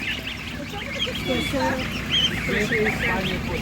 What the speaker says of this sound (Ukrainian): Дивіться, є молоденька гусочка, ось така.